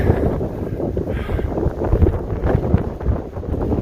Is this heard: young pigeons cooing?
no